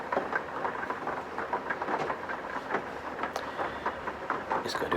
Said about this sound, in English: hear the rain fall